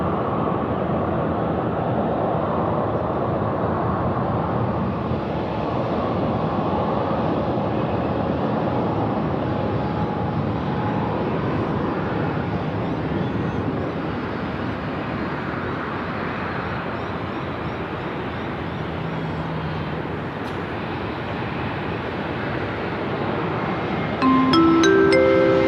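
Air Canada airliner taxiing at Sydney Airport toward the International Terminal apron, a steady broadband jet engine rumble and hiss held at even loudness throughout, heard from a distance outdoors.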